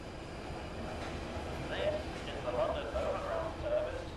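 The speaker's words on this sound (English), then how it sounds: "I got to go on the train!" A train rumbles steadily along the rails in the video game Fallout: London, with a continuous rolling clatter and a few louder squeals and swells; a muffled voice may sit faintly beneath it.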